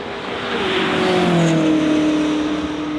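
A Koenigsegg Jesko Absolute hypercar accelerating up a hill at a car event, its loud engine note rising in pitch as it pulls hard, sustained and fairly close throughout, with no talking.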